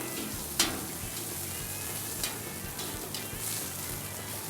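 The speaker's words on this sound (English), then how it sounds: "let me just attend to the bacon" Bacon sizzles on a grill with a continuous crackling fry, close and even, punctuated by a few sharp pops and a light clink.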